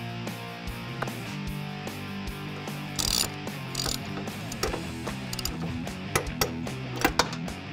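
A hand ratchet tightens the exhaust clamps on a 1999-2004 Mustang GT with a BBK 2.5-inch off-road X-pipe, close-up steady clicking in quick repeated strokes with a few brief pauses and metallic knocks.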